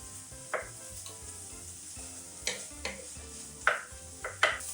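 Meat frying in a pan with black pepper, paprika and curry, a steady close sizzle broken by several sharp scraping stirs of a utensil against the pan, with no talking.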